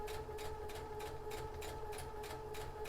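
A sewing machine runs a long ease stitch with the needle at its longest setting, its steady hum broken by quick, even clattering beats that repeat several times a second.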